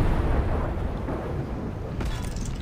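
A heavy rumbling blast from bombs dropped in War Thunder Mobile rolls on as a continuous low roar, with a faint crackle near the end, loud and close, no talk.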